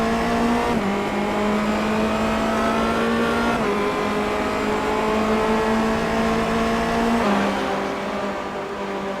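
A race car engine in the iRacing sim at the Daytona Road Course drones loud and steady through the turn onto the oval, its pitch climbing and then dropping sharply at each gear change.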